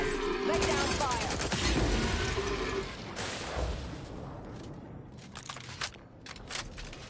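Bursts of gunfire from The Outer Worlds 2, a loud dense volley of rapid shots in the first seconds that thins into scattered, sharper cracks, with a voice speaking over the combat.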